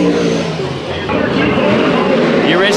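Late model race cars roar around the oval at Bakersfield Speedway during a heat race, a loud continuous engine drone with rising and falling pitch as cars pass, with voices talking over it.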